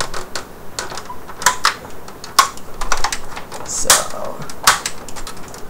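Sharp plastic clicks from the clips of an Xbox Elite controller being pried open, several irregular snaps close by with handling rustle between them and a brief spoken word.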